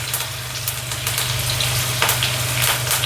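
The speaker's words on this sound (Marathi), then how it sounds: "आता आपण हा लसूण टाकूया आणि हा कढीपत्ता टाकूया" Garlic and curry leaves hit hot oil for a Maharashtrian zunka, producing a loud, continuous close sizzle with crackling pops and faint stirring.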